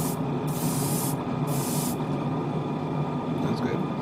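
An airbrush sprays paint onto a 1/144 scale Zeta Gundam model kit in two short bursts of hissing air, each about half a second long, close and clear against a steady background hum.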